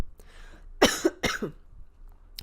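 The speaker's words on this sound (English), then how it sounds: "I'm sorry, I'm starting to cough." Two sharp, close coughs in quick succession, with a fainter throat sound at the start and a small click at the end.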